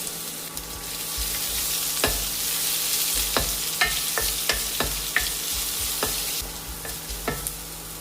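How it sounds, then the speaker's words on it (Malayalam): Chopped onion hisses and sizzles in a pan with garlic and ginger, a continuous frying crackle punctuated by several sharp clicks and scrapes of a spoon stirring against the pan. "അതിലേക്ക് സവാള അരിഞ്ഞത് ചേർക്കാം."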